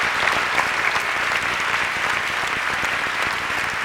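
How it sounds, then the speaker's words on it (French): Sustained, dense applause from a gala awards audience greeting a nominee, a steady wash of many hands clapping at even loudness throughout, with no voices on top. "En nomination, Alain Gravel, on l'applaudit."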